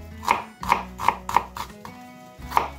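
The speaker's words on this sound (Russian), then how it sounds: "Лук для супа я нарезаю на небольшие кубики." Crisp knife strokes chop an onion into small cubes on a cutting board, six sharp taps in an uneven rhythm, close by with no talking.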